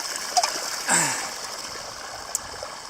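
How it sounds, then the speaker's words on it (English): A mountain creek near the Italian border flows steadily close by, with a broadband rush of water and a brief splash partway through; no one talks. "I had to stop here because I found this creek and I want to drink some water"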